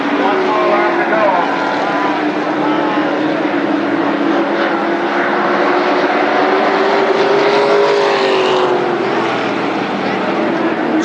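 NAMARS midget race cars lapping the oval at Berlin Raceway, a continuous loud engine drone with gently sliding pitch as cars pass, under an announcer's voice.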